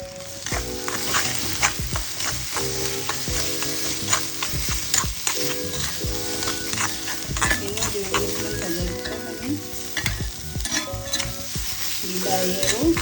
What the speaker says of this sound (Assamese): আদা বটা, 1 চামুচ নহৰু বটা আৰু জিৰা আৰু লাল মিৰ্চি কালাৰ হ'বৰ কাৰণে দিলোঁ।